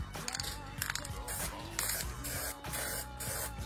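Spray primer hisses onto the sanded plastic body panels of a Yamaha Aerox scooter being repaired after a crash, in a series of short close bursts with brief gaps between them.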